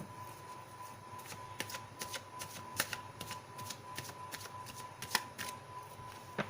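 Tarot cards are shuffled close up, giving a run of soft, uneven riffling taps and flutters over a faint steady tone and background hiss, with no voices.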